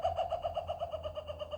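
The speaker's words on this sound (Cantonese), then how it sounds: "仲有笑翠鳥，" A kookaburra calls in a rapid, evenly pulsed series of hooting notes, a steady rhythmic burst lasting under two seconds, moderately close and clear with nothing else audible.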